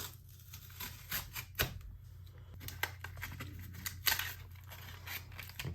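Silicon Power 1TB NVMe M.2 drive packaging being opened, with crinkling plastic and scattered clicks and taps in uneven bursts, close and fairly quiet, no talking.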